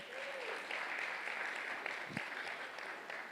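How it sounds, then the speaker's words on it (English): An audience at a clinical research conference claps together, giving a soft, distant ripple of applause that holds steady for a few seconds. "Everyone, please give Mark Ibarra Garza a round of applause"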